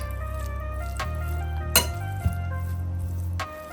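Warm chicken pot pie filling, still hot from the microwave and loosened by chicken fat, being stirred in a pot, giving soft wet squishing with a few light clinks of a utensil against the side.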